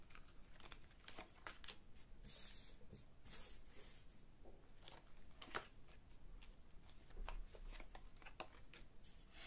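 Tarot cards are shuffled and drawn by hand in quiet, close, intermittent bursts of riffling and soft card slaps, with brief crinkly rubs in between.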